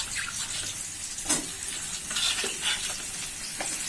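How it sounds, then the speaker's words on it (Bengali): Potato and onion pieces fry in oil in a pan, a steady soft sizzle with a few sharper clinks and stirring scrapes scattered through it, moderately quiet and with nobody talking. "আর এখানে আলু আর পেঁয়াজ ভেজে নিচ্ছি"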